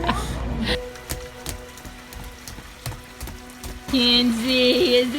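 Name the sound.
rain falling while children play outside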